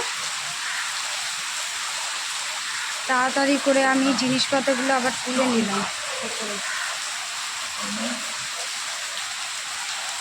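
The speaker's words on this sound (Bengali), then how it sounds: "বৃষ্টি শুরু হয়ে গেল" Rain starts to fall, a steady broadband hiss of drops on surfaces that runs throughout, with a person talking briefly over it in the middle.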